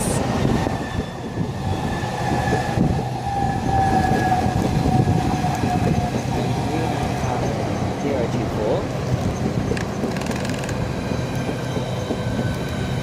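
A Class 395 Southeastern high-speed train pulls into Ebbsfleet International on HS1, a steady loud rolling roar with a falling electric whine as it slows, carrying on throughout the clip.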